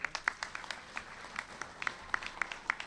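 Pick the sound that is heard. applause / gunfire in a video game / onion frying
applause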